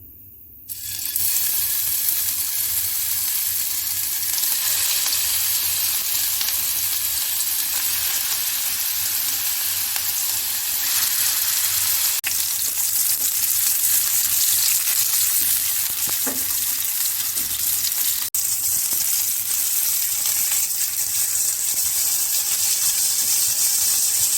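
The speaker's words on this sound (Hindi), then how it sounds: "मीडियम टू लो फ्लेम पर सीख कबाब को फ्राई करेंगे।" Seekh kebabs sizzle steadily in hot oil over a medium-low flame, a loud, continuous frying hiss that holds for the whole stretch with no talking.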